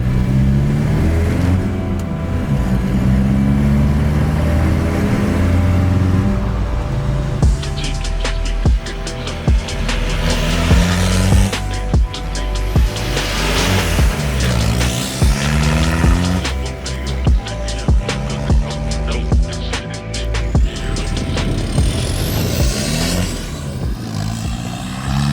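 A Toyota swapped with a VW TDI diesel engine out on a road test drive, engine droning and rising in steady revs with shifts, close and continuous, road noise throughout and no talking.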